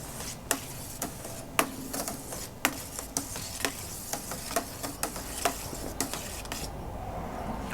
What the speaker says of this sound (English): So we're gonna stir it just a little bit, try to get some of this foam down.